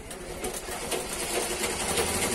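Sewing machine in a small shop working on a customer's item, giving a steady mechanical whir throughout, under broadband room noise without speech.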